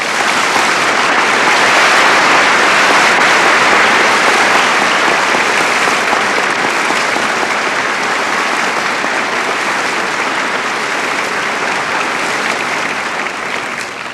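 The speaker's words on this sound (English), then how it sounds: "will you please join me with another round of applause in congratulating these fine young men and women" Dense, sustained applause from a large audience at a 1990 high school graduation ceremony, a loud continuous roar of clapping that holds steady for the whole stretch and only eases slightly at the end.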